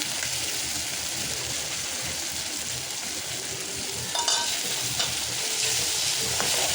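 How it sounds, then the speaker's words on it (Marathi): Boiled moth beans dropped into roasted masala and oil for Kolhapuri-style misal, giving a steady close sizzle throughout with a few brief clatters and stirring scrapes near the end, no talking. "आता आपण काय करूया, त्याच्यामध्ये मटकी, उकडवलेली मटकी टाकूया."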